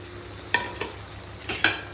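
Tomato masala with turmeric, chilli powder, coriander powder and garam masala is sautéed in a pan for an egg gravy, with a low steady sizzle and a few soft scraping stirs of a spoon.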